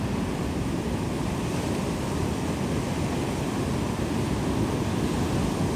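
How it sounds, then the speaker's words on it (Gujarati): Ocean surf roars continuously, a dense steady wash of breaking water with no distinct pauses between waves. "આવી રીતના મોજા છે ને એ આવે ધીમે ધીમે ધીમે ધીમે ભાંગતા ભાંગતા જવો તમે"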